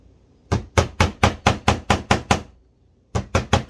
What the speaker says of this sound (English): I've got a little nail and a little hammer to start my hole for my screw eye.